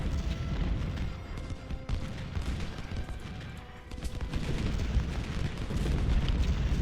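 Civil War artillery in the strategy game Ultimate General: Civil War, a dense continuous roar of cannon fire and rumbling booms with overlapping rifle volleys, loud and sustained throughout, with almost no speech.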